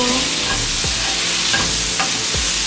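Onions fry loudly in a hot pan for fried rice, a dense, close sizzle with a few spatula scrapes and stirs scattered through it, with no talk.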